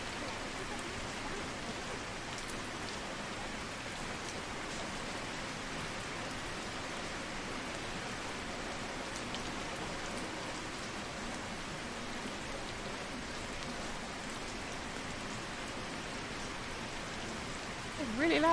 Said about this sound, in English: It's really loud rain.